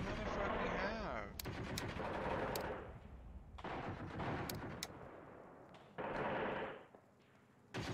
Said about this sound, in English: Oh God, another rocket artillery barrage on my dudes.